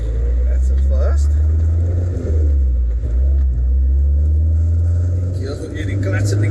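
A Nissan Sentra GXi VVL with an SR20VE engine drones with a loud, steady low rumble while being driven, with the pitch shifting slightly as someone talks over it throughout.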